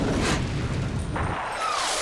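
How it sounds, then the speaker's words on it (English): Fireworks or TNT blowing up inside a fireplace in the Gryffindor Common Room of the LEGO Harry Potter video game, a dense burst of crackling noise that swells, dips and swells again over about two seconds, with no talk. "you can put the fireworks or the TNT inside of the fireplace and you will just get some studs"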